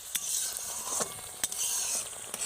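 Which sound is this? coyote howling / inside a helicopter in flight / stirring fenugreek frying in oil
stirring fenugreek frying in oil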